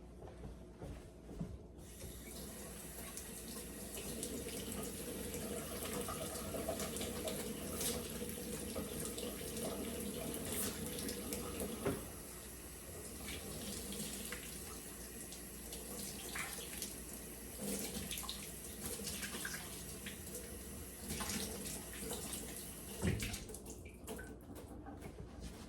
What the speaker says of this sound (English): the first thing we're going to do is we're going to wash our hands